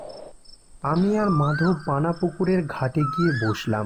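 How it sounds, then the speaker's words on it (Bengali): Crickets chirp at night beside a weedy village pond, a thin steady trill running beneath a man's close, continuous narration. "ঝিঝি পোকার ডাক কানে আসছে।"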